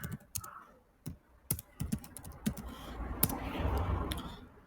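Computer keyboard typing, close and quiet, with irregular clicking keystrokes in short bursts and a soft rustle building near the end.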